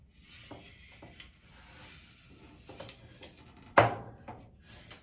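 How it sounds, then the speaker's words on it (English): Painter's tape peeled off the edge of a painted wooden coffee bar tray, heard as short quiet rubbing scrapes leading to one sharp tearing rip near the end. "So I'm gonna actually start to peel my paint tape off."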